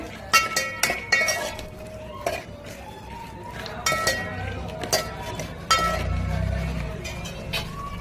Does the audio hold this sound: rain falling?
no